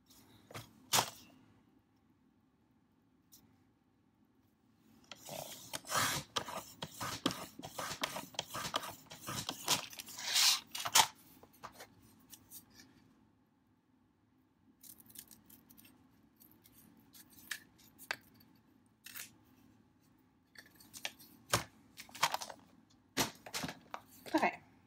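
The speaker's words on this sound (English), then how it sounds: "I better use my trimmer." Paper trimmer slicing through paper while crafting a fabric-covered book spine, a series of sharp dry cutting and scraping strokes in bursts with short pauses, fairly close and moderately loud.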